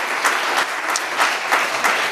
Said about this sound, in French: Je vais vous demander d'applaudir nos intervenants